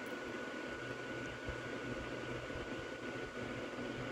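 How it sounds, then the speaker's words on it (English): An Ambassador Kuo-Horng 12-inch rotating-grille box fan runs with a soft airy rush and a thin, steady high-pitched motor whine held constant throughout. "It has like a high-pitched motor whine."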